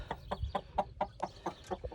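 Roosters and hens in a poultry yard cluck in a quick, even run of short, close notes, roughly five per second, with no pause between them.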